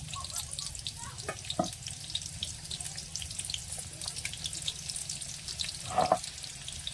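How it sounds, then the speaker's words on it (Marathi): Chopped onion and tomato frying over a cement wood-fired chulha, a steady close hiss of sizzling throughout with a couple of brief utensil knocks. "यामध्ये ना कांदा घालून देणार आहे"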